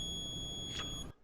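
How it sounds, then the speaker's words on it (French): Thermal conductivity diamond tester held against a diamond gives a steady high electronic beep tone that runs for about a second before cutting off, fairly faint. "La jauge se remplit, on entend un bip."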